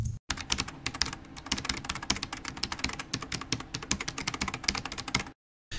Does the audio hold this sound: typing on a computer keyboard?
yes